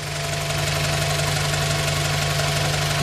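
A 1999 Honda Prelude with a 97 SH motor idles steadily and close by, a continuous low engine hum with a faint knocking rhythm and no voices over it.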